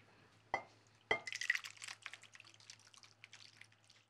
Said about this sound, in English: That is the sound of a good mac and cheese.